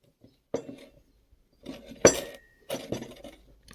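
Several sharp clinks of a porcelain teapot lid being lifted and set back, clustered in a few quick bursts with quiet gaps between; the lid does not match the old painted teapot.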